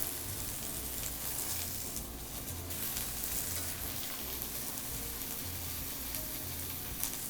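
Onion, burdock and green onion stir-frying in a pan for Miyazaki beef sukiyaki, a steady close sizzle with soft stirring scrapes running throughout, no talking.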